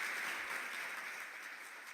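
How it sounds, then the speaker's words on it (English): Audience applause at an education session for children, steady soft clapping from a crowd heard from a distance, fairly faint and fading slightly. "give our dear sister Soonmi a big round of applause"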